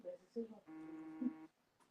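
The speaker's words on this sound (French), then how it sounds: "Ton téléphone sonne." A telephone rings indoors in a steady tonal burst, close and moderately loud, as a voice speaks over it before and during the ring.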